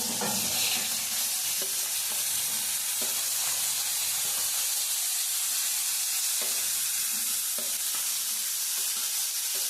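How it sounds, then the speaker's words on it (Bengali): Vegetables including cauliflower, capsicum and carrot fry with a little salt in a pan for veg dal, giving a steady close sizzle with occasional stirring scrapes and no talk. "তারপর আমি সব সবজিগুলো দিয়ে দিচ্ছি ভাজার জন্য।"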